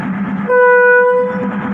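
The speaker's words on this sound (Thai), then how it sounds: "รถท้องถิ่น407 นครสวรรค์เชียงใหม่ ตอนนี้ตามเวลานะฮะ" Local train 407, Nakhon Sawan–Chiang Mai, stopped at Chum Saeng station, sounds one loud, steady horn blast of under a second over a low rumbling idle.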